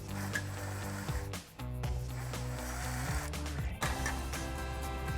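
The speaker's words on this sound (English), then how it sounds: "We're gonna start in the front with our impact and 13 millimeter socket and take our 2 front" Workshop mechanical noise continues as an impact wrench with a 13 mm socket works on the front exhaust clamps of a 2011–2014 Mustang GT. It holds a steady buzzing drone with sharp clicks and ratcheting bursts and brief breaks between them.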